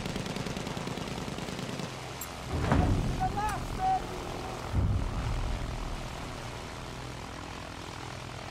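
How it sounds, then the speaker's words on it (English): An enemy plane in Battlefield 1 flies overhead amid the game's steady combat din, its propeller drone swelling briefly as it passes; no talk is heard. "Enemy plane, watch it."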